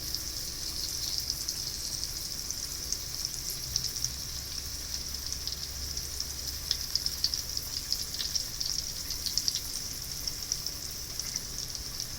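Banana slices deep-fry in hot oil for a Konkan-style kaap, giving a steady, fine crackling hiss that stays even and moderately quiet throughout, with no voices.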